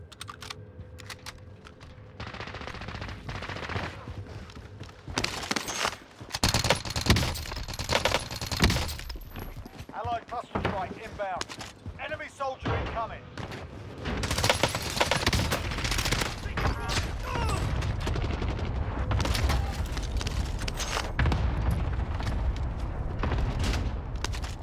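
Bursts of automatic gunfire from a Milano submachine gun in the Rebirth Island video game crackle loudly and repeatedly, mixed with dense keyboard clicking and intermittent voices talking over the action.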